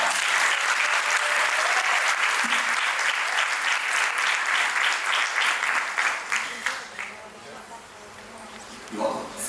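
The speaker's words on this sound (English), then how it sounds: "So give her a huge round of applause." A conference audience applauds the president of the ICF coaching chapter at a summit in Egypt, a dense, steady roar of clapping that thins and fades toward the end, with a brief burst near the close.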